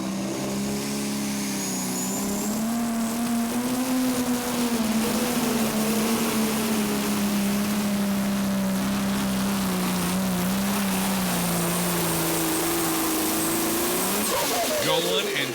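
A pro stock pulling tractor roars down the track at a pull in Tomah, Wisconsin: a loud, sustained engine drone that wavers in pitch through the run, with an announcer talking over it.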